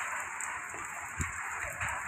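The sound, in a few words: light rain falling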